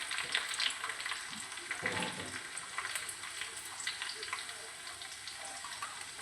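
Onion added to hot oil alongside garlic fries with a bright, crackling sizzle, a burst of louder spitting early on, then a steady hiss with light stirring and faint spoken words in the background.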